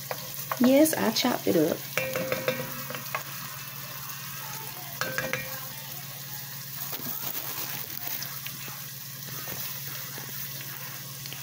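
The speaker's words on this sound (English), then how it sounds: "now we're going to place in the 6 cloves of garlic" Six cloves of fresh chopped garlic sizzle in a pot for cabbage soup, a steady close hiss with spoon stirring and scraping through it, while a voice speaks briefly near the start.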